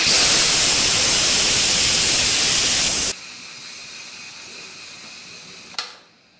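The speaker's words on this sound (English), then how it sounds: "The second way is the quick release, and that means you just turn the steam release handle to the venting position." Instant Pot IP-DUO electric pressure cooker on quick release, venting steam in a loud, harsh, continuous hiss that cuts off abruptly halfway, followed by quiet room tone and a brief click.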